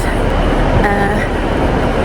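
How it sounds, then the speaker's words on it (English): Busy ambience at Manchester Piccadilly train station, with loud, dense, steady rumble and broadband noise throughout and faint tones briefly rising through the wash. "Manchester Piccadilly train station, and I need to rush to get the last tram"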